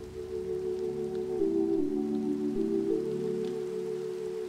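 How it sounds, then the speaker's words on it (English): Steady rain falls in Minecraft, a constant moderate hiss without pause, heard alone with low background tones underneath. "The rest is rain."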